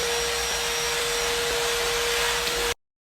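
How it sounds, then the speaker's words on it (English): An oscillating multi-tool cuts through drywall at close range, a steady continuous whine with a strong tonal buzz holding level for under three seconds before stopping abruptly. "They have like a multi-tool and they're cutting the drywall."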